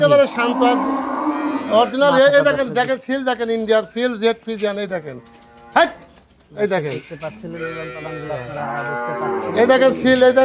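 A calm dairy cow at a cattle sale gives loud, drawn-out moos close by, several in a row with short gaps, while people talk around it.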